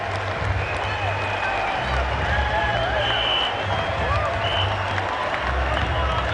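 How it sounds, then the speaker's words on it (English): A cricket crowd at Kingston gives a standing ovation during a 1995 West Indies versus Australia Test, a dense wash of sustained applause and cheering from a large stadium audience, steady and distant with a low hum underneath. "A standing ovation here at Kingston."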